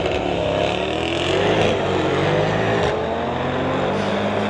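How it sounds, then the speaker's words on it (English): A Mercedes and a 2019 Audi RS3 launch down a drag strip, engines roaring loud and steady throughout with a continuous high-revving drone and no talk. "Mercedes taking off first, blazing down the track."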